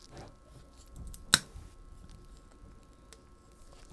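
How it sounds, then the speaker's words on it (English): A single sharp snip as scissors cut through a scented geranium stem during pruning, close and crisp against a quiet room. "And just snip it right there."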